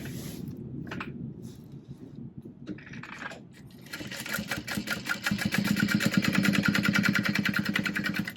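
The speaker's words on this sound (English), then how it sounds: "So now we will go ahead and top stitch those into place." A sewing machine top stitches straps onto a Felicity tote, a fast steady needle rhythm starting after a few seconds of handling noises and growing louder, running close up with no talk.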